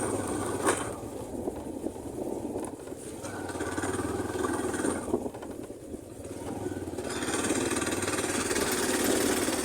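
A motorcycle engine idles in a steady, moderately loud drone that runs unbroken for the whole stretch. The rumble swells slightly toward the end.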